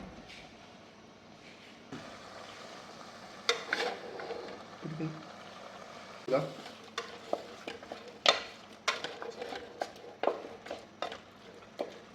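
Chicken frying in a pan of fresh coconut oil for a quick jeeraka chicken, with a low steady sizzle. Sharper bursts of stirring and the scrape of a utensil come through clearly from about 3.5 seconds.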